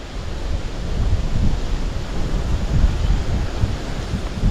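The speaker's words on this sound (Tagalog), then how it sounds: "Sobrang hangin." Strong wind buffets the microphone outdoors at a fishing spot, a loud, continuous low rumble with gusty surges throughout.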